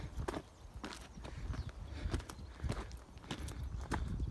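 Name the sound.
horses walking on mountain trail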